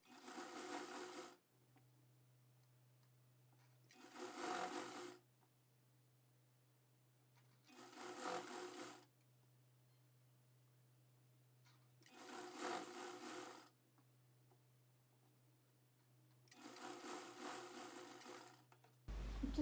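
A sewing machine stitches a blouse lining in five short bursts of rapid whirring, each a few seconds long and separated by quiet pauses, with a faint low hum in between.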